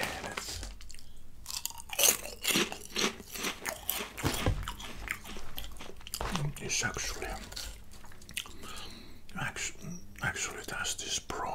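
Crunchy vegan crackers are chewed close to the mic, with a run of sharp crisp bites and crunches amid soft whispered talk.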